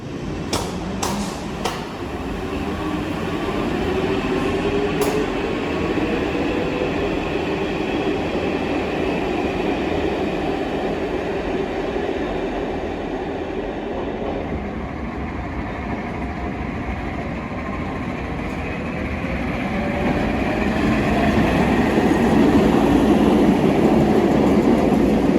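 An old commuter train runs along a Rome railway line, a steady loud rumble of wheels and carriages with faint rhythmic clatter and a few early clicks, holding near throughout with no talk.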